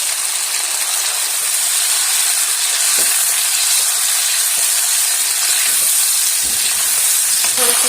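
Beef karahi gosht sizzles in a wok over a high flame, browning with its spices in a loud, continuous hissing roar that stays steady throughout.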